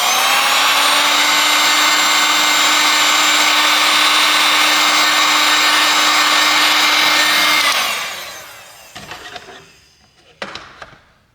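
Heat gun blowing hot air onto a FoxxD Miro S67 5G phone back panel, a loud steady fan roar for about eight seconds that winds down, followed by a few quiet clicks and handling knocks.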